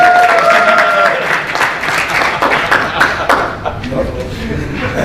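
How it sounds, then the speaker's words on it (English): Audience applause during a technical talk on Microsoft Windows Virtual Desktop, dense clapping that gradually thins and fades, with voices talking underneath. "Round of applause for Cost"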